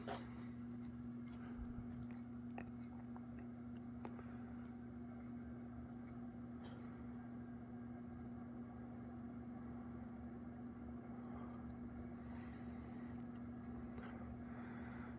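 A Mau Chun 42-inch ceiling fan running at high speed, around 200 RPM, gives off a faint, steady motor hum with a few light ticks, unbroken for the whole stretch.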